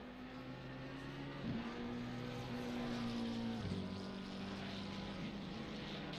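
Race cars including a McLaren 720 circulating at Donington Park, a steady distant engine drone with gear-change pitch shifts as cars pass, heard from trackside without talk.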